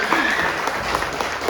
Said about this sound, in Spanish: Quiero que le demos un aplauso al Señor.